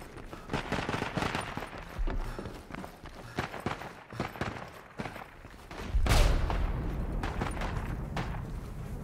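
Machine gun fire from the WWI game Isonzo crackles in repeated close bursts and scattered shots, with a louder, heavier volley near the end.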